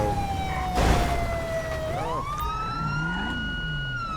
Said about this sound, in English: Lights and siren are activated.